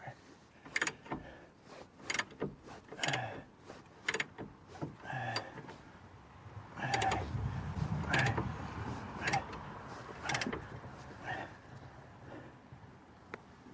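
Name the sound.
1/2 inch ratchet working on Ford Mustang ball joint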